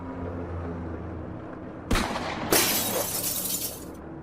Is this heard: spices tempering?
no